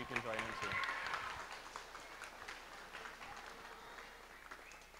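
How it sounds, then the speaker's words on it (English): At a school spring concert, the audience gives a round of applause that fades from a fuller burst into scattered clapping, with a voice speaking briefly at the start. "So one more round of applause,"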